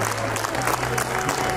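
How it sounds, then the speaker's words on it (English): An audience at a school annual day ceremony claps for an award winner, a short burst of dense applause with a faint steady tone beneath it. "Let's congratulate her by having a huge round of applause."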